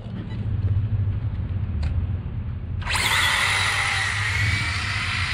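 An RC drag racing car on a no-prep strip launches with a sudden high-pitched electric motor whine that cuts in sharply over a low background rumble and holds loud to the end.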